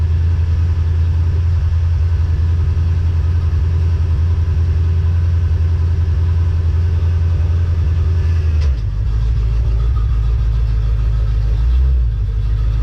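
A Chevrolet Monte Carlo rumbles as it is eased closer to an 84 C10 pickup for a jumpstart, a steady close engine drone that drops in pitch and settles near the end.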